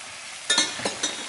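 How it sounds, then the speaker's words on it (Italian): Red wine is poured into a pan of browning beef stew with potatoes, setting off a few quick sizzling bursts over a soft background hiss. "Aggiungiamo anche il vino rosso."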